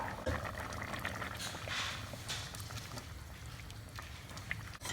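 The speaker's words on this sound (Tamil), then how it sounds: "இப்போ அரை மூடி தேங்காய் பால் ஊற்றிக்கலாம்." Thick coconut milk poured into a bubbling pot of mixed vegetable kulambu, with a steady low simmer and soft splashing throughout, fairly close.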